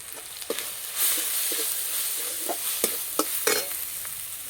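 Kashmiri chili, turmeric, cumin, coriander and chili powders fry in a pan, a soft continuous sizzle broken by sharp scraping strokes of a spoon stirring at irregular intervals, close up with no talk.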